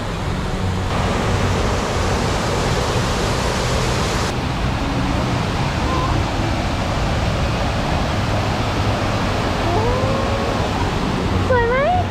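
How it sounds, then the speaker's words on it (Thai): Tat Kuang Si waterfall near Luang Prabang pours with a loud, steady, broadband roar filling the whole stretch, with a few faint bird chirps rising near the end. "ข้างๆนี้ก็คือแบบเป็นน้ำตกหมดเลย"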